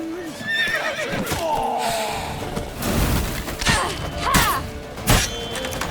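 Horses whinny and snort repeatedly amid thudding hooves and scuffling noise in The Witcher 3 video game, loud and close, with several overlapping neighs.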